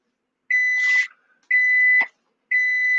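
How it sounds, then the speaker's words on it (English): A coffee maker gives three loud electronic beeps, each lasting about half a second, spaced roughly a second apart, with nothing else audible between them. "Well, my coffee is beeping at me."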